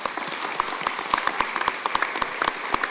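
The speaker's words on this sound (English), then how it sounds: "Let's give a clap for that." Clapping from attendees at a city council meeting, sparse and individually distinct claps in an irregular patter, moderately close and fairly quiet.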